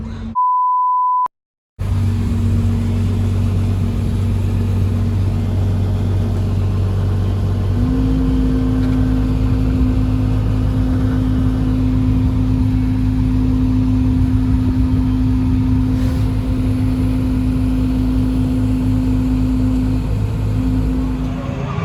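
Case IH MXM175 tractor engine running steadily with a low, loud drone that shifts up in pitch partway through and then holds. A short beep sounds at the start.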